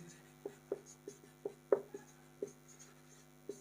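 Pen or chalk writing during a maths lesson on quadratic equations: soft, irregular strokes and taps, about ten in a few seconds, quiet and close in an otherwise hushed room.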